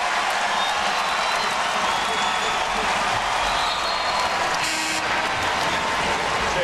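Basketball arena crowd at a DePaul at Kansas game applauding and saluting a player, a steady broad wash of clapping and crowd noise, with a commentator's voice faintly under it.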